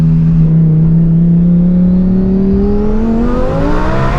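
A loud, close twin-turbo Lamborghini Huracán STO engine revving with a steadily rising drone and whirring turbo tone, sustained throughout.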